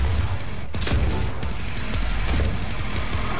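A thrown grenade going off in the DOOM (2016) shooter game, with a loud sharp blast and crackling debris amid ongoing gunfire and game noise, continuous and close.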